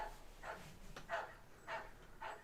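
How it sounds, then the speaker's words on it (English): A dog chained up outside barks in a short series of about four distant, muffled woofs, each well spaced from the next. "Shut that damn dog up."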